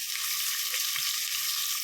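Steady, dense sizzling of onions frying in hot oil for veg biryani, a continuous crackling hiss with no voices.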